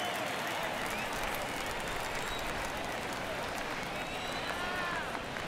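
A baseball stadium crowd in MLB The Show 22 keeps up a dense, continuous roar of cheering and clapping in the ninth inning, steady throughout.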